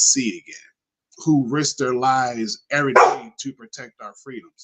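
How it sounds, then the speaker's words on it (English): A dog barks in short, sharp bursts in the background of a room while someone talks steadily over it. "That's my dog, she barking."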